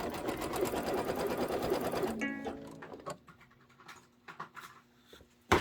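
A sewing machine runs a steady, dense placement stitch on a Kimberbell applique table topper, then stops after about two seconds, leaving light scattered handling clicks and rustles.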